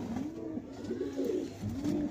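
Caged pigeons coo softly and repeatedly, several low rolling calls following one another against a faint background hum.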